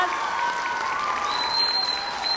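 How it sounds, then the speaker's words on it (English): A crowd claps at a 6th grade elementary school graduation ceremony, a dense burst of applause with faint voices mixed in. "Round of applause."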